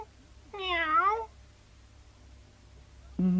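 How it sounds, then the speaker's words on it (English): A cat gives one clear, rising-and-falling meow, close and distinct in a quiet room, with a second meow starting just as it ends. "It was the cat."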